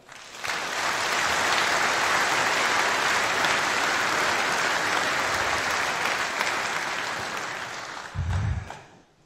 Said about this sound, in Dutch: maak een applaus voor het jubilerende koor